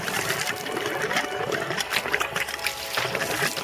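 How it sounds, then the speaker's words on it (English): Water trickles and splashes from an airlift pump over an apple being rinsed outdoors, a steady close wash of running water with small splatters throughout. "It's a good thing I put in this airlift pump that puts water around the property."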